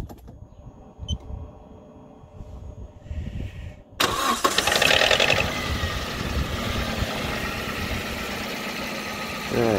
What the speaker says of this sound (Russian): мы производим запуск двигателя